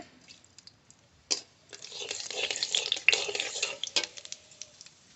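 Whole cumin seeds dropped into hot mustard oil in a wok, with a few faint clicks before a soft crackling sizzle that rises and lingers at moderate volume.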